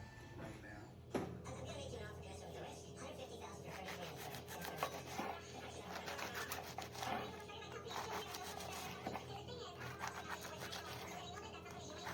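A knife sawing through a loaf of garlic bread, with repeated rough rasping strokes that are faint and close, under a steady background hum.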